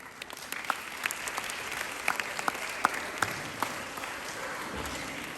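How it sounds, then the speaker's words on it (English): A school audience applauds teaching staff at an art fest inauguration, with steady clapping from a crowd and a few sharper individual claps standing out, at moderate volume. "please join me in extending a warm round of applause for our outstanding teaching staff"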